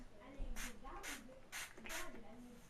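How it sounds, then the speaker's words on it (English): Four short hissing bursts from an aerosol can of root-boosting hair spray, evenly spaced, close to the microphone. "I'm going to spray this just at, like, the very nape of my neck."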